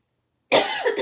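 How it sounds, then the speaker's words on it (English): A woman gives a single harsh cough from a lingering cough. It comes on abruptly after silence, close and loud, with a rough rasp that trails off. "I have this horrible cough."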